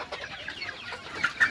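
A farm chicken clucks softly in a few short, scattered calls, fairly close and otherwise quiet.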